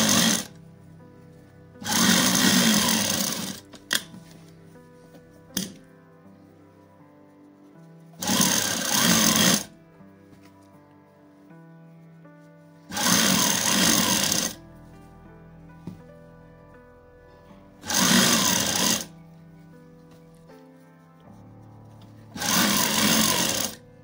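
A sewing machine closing the turning opening of a langot, running in five short bursts of rapid mechanical whirring, each a second or two long, separated by quiet pauses with faint handling sounds.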